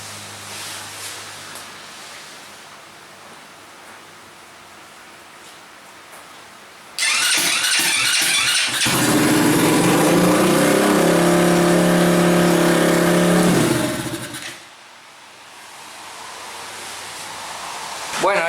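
A home-built go-kart engine on a makeshift test stand starts up and runs loudly for several seconds with a steady mechanical roar and a few harmonic tones, then cuts back toward an idle.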